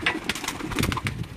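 Sialkoti pigeons of the Garla breed with old pearl markings coo in a short, close burst of soft throaty calls, with a faint rustle around them.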